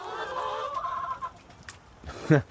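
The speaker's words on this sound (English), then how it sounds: "I'm getting attacked by my chickens." Chickens cluck close by, a low murmuring run of clucks followed by a sharper squawk near the end.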